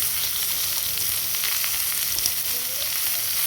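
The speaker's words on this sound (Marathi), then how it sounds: "आता हे टोमॅटो टाकणार आहे। लसणाच्या पाकळ्या पण टाकणार आहे" Tomatoes, garlic cloves and ginger sizzle steadily in hot oil in a pan over a wood-fired stove, a continuous close, bright frying hiss with no voices.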